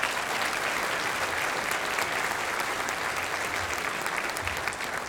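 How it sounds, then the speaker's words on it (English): A banquet crowd gives sustained, dense applause for the steering committee, steady and even from start to finish with no break. "So please give them your applause as well."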